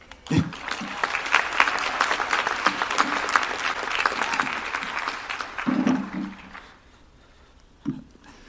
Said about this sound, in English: Y'all should give yourselves a round of applause